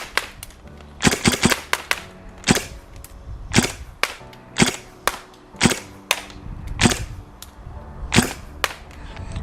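GHK Steyr AUG A2 gas blowback airsoft rifle firing single shots, over a dozen sharp cracks with a metallic bolt snap, irregularly spaced and close, with no talk.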